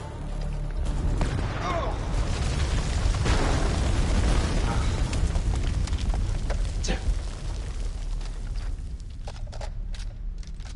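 A grenade blast in the war horror game House of Ashes, a loud booming burst with rumbling debris and scattered crackling pops that trail off over several seconds, with voices faintly underneath.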